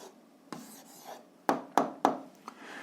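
A pen or chalk writes out the answer to a 7th-grade physics exercise, with soft scratchy strokes and a few sharp taps in quick succession, close and fairly quiet.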